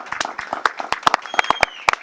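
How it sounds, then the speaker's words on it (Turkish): A small group applauds at a weight-loss camp farewell, sharp, fairly close hand claps with some voices mixed in beneath. "Alkışlıyoruz hep beraber."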